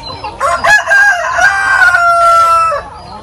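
A rooster crows loud and close on a poultry farm keeping native chickens, with a drawn-out call that holds for about two seconds amid faint clucking.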